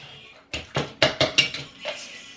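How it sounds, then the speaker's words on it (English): Ripe bananas mashed with a potato masher in a bowl for banana bread: about seven soft, squelchy thumps against the bowl in a quick, uneven rhythm, close and fairly quiet. "And then you just want to mash your bananas. I've got like a potato masher,"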